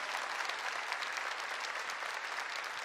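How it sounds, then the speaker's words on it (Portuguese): A church congregation at a Catholic service applauds in honour of the rosary and the Virgin Mary, a dense, steady wash of many hands clapping throughout. "Uma salva de palmas à nossa igreja, uma salva de palmas ao Santo Terço, à Virgem Maria"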